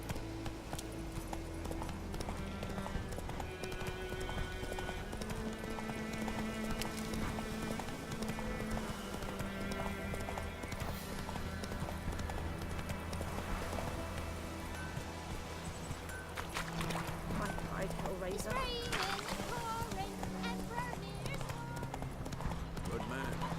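Roach the horse gallops in The Witcher 3, with a brisk, rhythmic clip-clop of hooves running through a layered game soundscape while voices talk over it.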